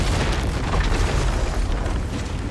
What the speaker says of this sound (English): Wait, it still exploded?